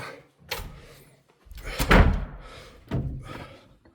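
A door is opened with a few distinct thuds and knocks, close and fairly loud, spread over several seconds with quiet gaps between.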